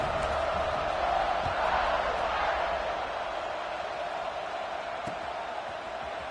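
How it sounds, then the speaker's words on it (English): A stadium crowd in a Notre Dame vs Alabama college football video game buzzes in a steady, dense roar throughout, swelling slightly early and then easing, with a couple of faint thumps. "this crowd is buzzing after that last score"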